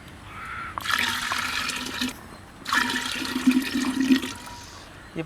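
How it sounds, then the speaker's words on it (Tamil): Water poured from a pot into a clay pot to make pearl millet porridge (kambu koozh), two bursts of steady splashing pouring with a short pause between, fairly close. "ஃபஸ்ட்டு பானைக்கு 3 சொம்பு தண்ணி ஊற்றிக்கலாம்."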